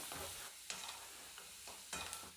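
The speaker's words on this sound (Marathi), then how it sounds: "आपल्याला हा कांदा मीडियम गॅसच्या फ्लेमवर चांगला लालसर होईपर्यंत भाजून घ्यायचा आहे" Finely chopped onion roasting in a kadhai over a medium gas flame, with a soft continuous sizzle and a few scraping stirs; quiet and close, no voices.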